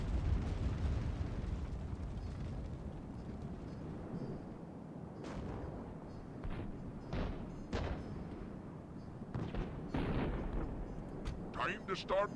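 Artillery pieces firing in a Medieval II Call of Warhammer mod battle, several booming blasts spaced a second or two apart over a constant roar of battle noise, with someone talking over it.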